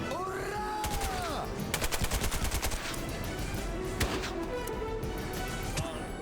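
A burst of automatic gunfire breaks out during a breach in the SOCOM US Navy Seals II game, with rapid loud shot volleys and clicks over rising tonal game effects.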